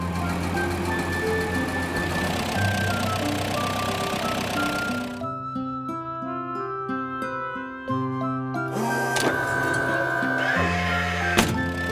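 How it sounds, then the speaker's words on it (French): Cartoon vehicles roll up a ramp into a cargo plane, engine hums and mechanical tones shifting in steps, with clunks near the end; no talk. "Les véhicules empruntent la rampe et montent dans l'avion."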